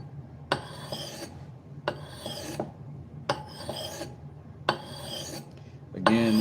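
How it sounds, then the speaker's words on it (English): Kitchen knife drawn across a 1000-grit Amazon Basics whetstone in five slow, evenly spaced rasping strokes, each a close, gritty scrape, with a brighter scrape at the end. "I've been sharpening a knife while I've been watching."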